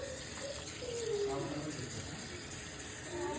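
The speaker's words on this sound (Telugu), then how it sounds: "బాగా శుభ్రంగా కడుక్కోవాలండి, లేదంటే నీసు వాసన వస్తుంది." Raw fish being washed under running water, a faint tap stream splashing and trickling steadily with light handling of the fish, while someone speaks quietly over it.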